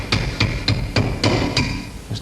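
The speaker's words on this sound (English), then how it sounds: "what we do is we tap down with a hammer" Hammer taps on the ends of a silver ring fitted over a ring mandrel, seven sharp metallic strikes at a steady rhythm, close and clear with no talk.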